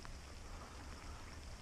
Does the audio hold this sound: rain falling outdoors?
yes